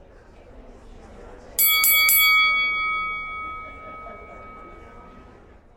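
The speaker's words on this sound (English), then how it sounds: "that sound, the boxing gong, takes me back to the moment" A boxing gong is struck three times in quick succession, bright metallic clangs whose long ringing tone fades slowly over a quiet room murmur.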